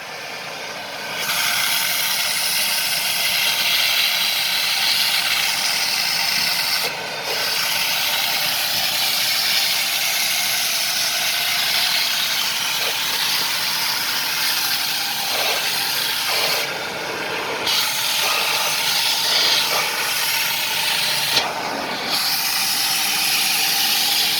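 An upholstery extractor sprays steadily through a jetless tool during car interior cleaning, a loud broad hiss lasting over twenty seconds. It breaks off in several brief pauses, with faint clunks and scrubbing underneath and no talking.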